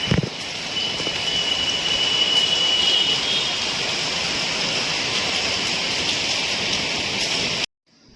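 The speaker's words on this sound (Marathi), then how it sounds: "रात्रभराचा तुफान पाऊस सुरू आहे" Heavy overnight rain pours in a dense, even hiss that holds steady for several seconds before cutting off abruptly, with no voices.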